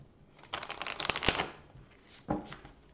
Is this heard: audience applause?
no